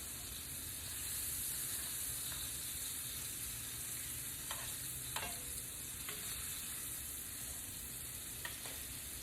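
Crawfish frying in a pan give off a loud, steady, hissing sizzle throughout, with a few brief sharp clicks and scrapes near the end; no one speaks.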